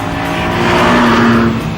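A Honda S2000 sports car with a 2-litre VTEC engine drives hard, its loud, steady engine note holding close throughout, with a rising tonal whine and faint tyre noise.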